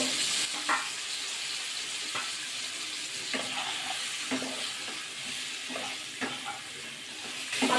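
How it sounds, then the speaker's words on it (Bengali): Cauliflower and potato pieces fry in oil seasoned with salt and turmeric, a steady close sizzle broken by regular scrapes and knocks of a stirring spoon against the pan. "কপি আলুটা দিয়ে দেবো দিয়ে ভাজা করে নেবো"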